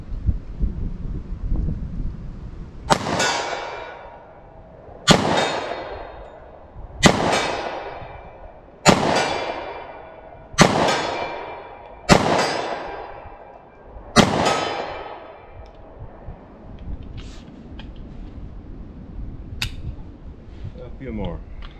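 Seven loud gunshots from a short-barreled pistol firing .45 ACP +P rounds outdoors, evenly spaced about two seconds apart, each with a booming decay, with wind noise between shots.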